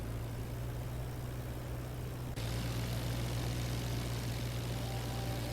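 Steady drone of an aircraft engine in the IL-2 flight combat game, loud and constant with a low tonal hum that jumps louder partway through.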